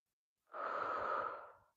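A single long, steady breath, drawn or released through the nose or mouth during a standing yoga pose with one leg raised, close and fairly soft, lasting just over a second before fading.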